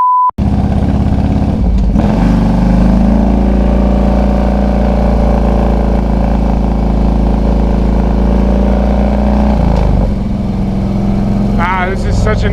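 A motorcycle engine climbing a dirt hill, droning steadily and loudly close by with shifts in pitch as it works uphill, while a voice talks over it.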